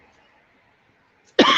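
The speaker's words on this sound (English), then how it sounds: "Sorry, I'm coughing so much" Near silence, then one sudden loud, close cough at the very end from a person with a lung disease.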